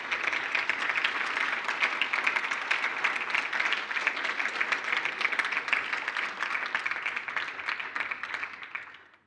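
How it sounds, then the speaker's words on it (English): A lecture-hall audience gives sustained applause for a mathematics lecturer receiving a ten-year service award. The clapping is dense and steady, carries on for about nine seconds, and fades out at the very end. "Let's give you a fitting round of applause"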